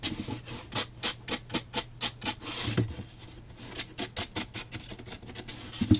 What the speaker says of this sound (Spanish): para la esquina, voy a coger una lija